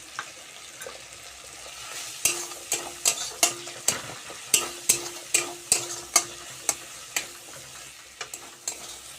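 Spices with green chili fry for a paneer dish, a low steady sizzle under a regular run of crisp spatula scrapes against the pan, about a dozen in quick succession.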